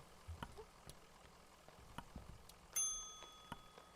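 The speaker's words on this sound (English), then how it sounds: "Very satisfying bell ring noise." A bell rings once in the video game Kentucky Route Zero, a clear bright ding that rings out and decays over quiet background ticks and soft thuds.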